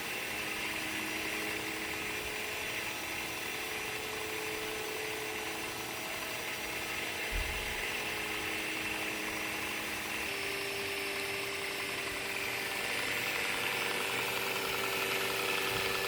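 Tesla Model 3 electric drive motor spinning near 6000 RPM on a test bench, powered through a reprogrammed inverter: a steady, fairly faint whine with sustained tonal hum lines and a broad hiss, with a brief low thump partway through.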